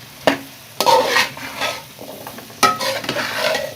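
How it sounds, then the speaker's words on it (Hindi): Potatoes are stirred into spiced capsicum frying in a pan, with sharp scraping spoon strokes at the start and again midway over a steady sizzle, close and fairly loud, with no talking. "अब हम इसके अंदर आलू डाल देंगे और इसको मिक्स करेंगे अच्छी तरह से।"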